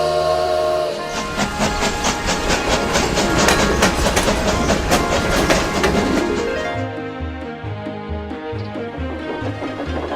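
A steam locomotive works along the rails, loud and close, with rapid rhythmic chuffing and hiss for several seconds before settling into a slower, steady clickety-clack of wheels over rail joints; no voices.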